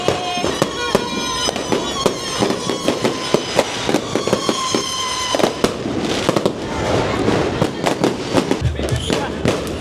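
Dense bursts of New Year's fireworks and firecrackers in the Philippines crackle and pop continuously, sharp loud bangs scattered over a steady roar, with people talking faintly underneath.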